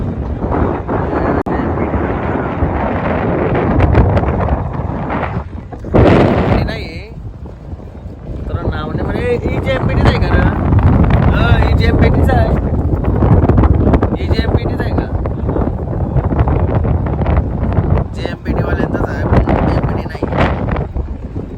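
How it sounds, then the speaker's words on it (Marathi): Strong wind roars and buffets the microphone near a water body, loud and continuous throughout, with water churning under it and a person talking over the gusts. "वारा तर काय बोलत नका एवढा आहे"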